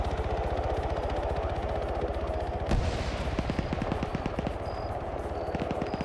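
A UH-60 helicopter fires on players in a military video game, loud rapid bursts of machine-gun fire rattling continuously in quick rhythmic volleys, with a sharp crack near the middle.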